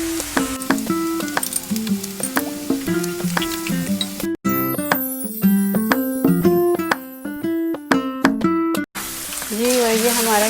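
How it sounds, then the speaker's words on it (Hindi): Garlic ginger paste hits minced meat in a karahi with browned onions, sizzling and frying steadily, with occasional stirring clinks. A voice talks at times over the close, continuous sizzle. "जी इसमें अब लहसुन अदरक का पेस्ट डालेंगे।"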